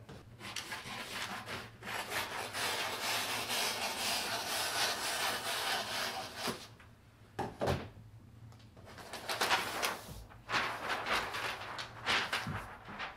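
Fabric for a boat-neck dress with box pleats is cut, giving steady close-up rasping and rubbing strokes in long runs broken by brief pauses.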